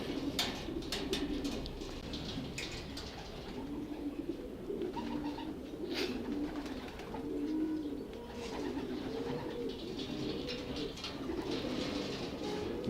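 Domestic pigeons kept for breeding coo repeatedly in a loft, their soft low rolling calls overlapping in a steady rhythm close by, with faint chirps and light rustling in the background.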